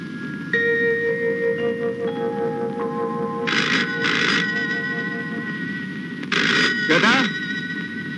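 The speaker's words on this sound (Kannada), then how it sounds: "ಫೋನ್ ಹೊಡ್ಕೋತಾ ಇದೆ." A telephone rings in a scene from an old Kannada action film, two double bursts of shrill bell-like ringing rising clearly over a sustained background music drone.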